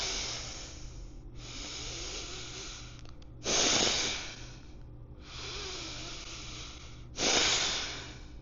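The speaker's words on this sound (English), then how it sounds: "Five deep breaths." Deep breathing during a vinyasa flow yoga practice: long, loud, airy breaths close to the microphone, alternating steady hissing inhales and stronger exhales in a slow regular rhythm, about five in all, without talk.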